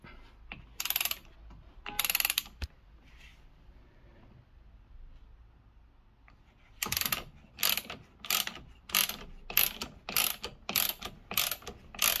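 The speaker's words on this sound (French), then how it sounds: "avec les clés on vient dévisser la vis et mettre le nouveau amortisseur" A ratchet wrench loosens the rear shock absorber bolt on a VW Passat TDI, with a couple of quick ratcheting bursts, a quiet pause, then a longer run of evenly spaced clicking pulls, close and sharp.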